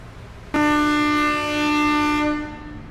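A loud, sustained train horn blast on the Senja Utama Solo passenger train sounds as it departs Sumpiyuh station at night in heavy rain, starting abruptly, holding for about two seconds with a slight dip, then fading into the rumble of rain.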